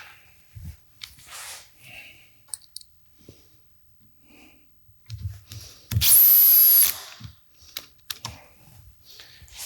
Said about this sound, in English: get this joint in place. Lock it down, and drive in the screw.